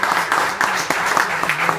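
A church congregation claps together in a short burst of steady applause, fairly soft and even, with faint voices underneath.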